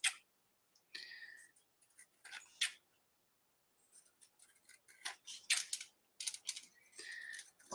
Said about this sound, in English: Just going to take the scissors and go around in a circle.